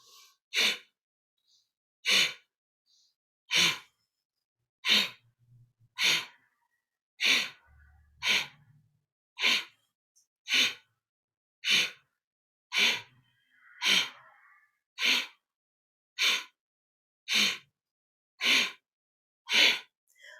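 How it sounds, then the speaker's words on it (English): Sharp, forceful nasal exhales from yoga breathing repeat at an even pace, about fifteen short puffs spaced roughly every second and a half, close and alone against near silence. "we're going to actively exhale, and the inhale is passive"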